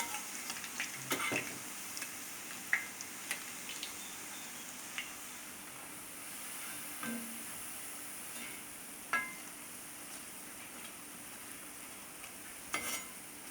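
Murukku deep-fries in hot oil over medium heat, a faint steady bubbling hiss with a few soft clicks and taps of a utensil, quiet and continuous with no voices.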